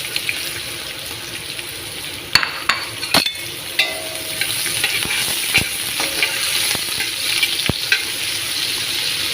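Onions frying in oil with pepper and cloves, a continuous close sizzle broken by scattered clicks and scrapes of a stirring spoon, no talk.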